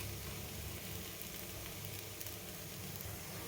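Black salsify curry frying in ghee in a pan gives a quiet, steady sizzle with a soft crackling hiss that holds evenly throughout, with no voices over it.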